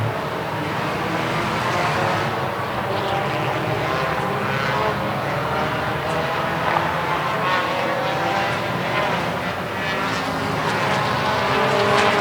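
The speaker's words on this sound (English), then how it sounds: "These guys, looks like they're all getting ready to start rolling again. No harm, no foul. We're back up to racing again." Race cars rolling around a track at the Daytomah 200, a loud continuous engine drone from several cars, steady throughout with no talk.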